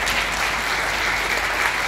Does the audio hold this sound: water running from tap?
no